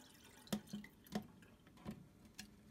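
SurgeX boiler treatment poured into a steam boiler, heard as a handful of faint, irregular drips and small splashes spaced apart over a quiet background.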